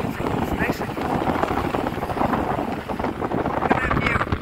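Gusty wind roars and buffets the microphone outdoors, loud and continuous throughout with uneven surges.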